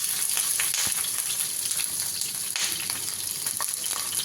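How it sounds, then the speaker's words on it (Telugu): Onions and garlic sizzle in a pan for a bitter gourd curry, giving a steady bright frying hiss with small crackles and occasional stirring scrapes, close and fairly loud with no talk. "ఇప్పుడు లైట్గా ఉల్లిపాయలు, ఎల్లుల్లిపాయ, టమాటాలు వేపుకుందాం."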